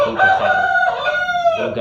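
Adult rooster named Gimbol, black-based Wirenggali colouring with red neck and back hackles, crowing loudly and close by in one long harmonic crow with a brief break before its final rise.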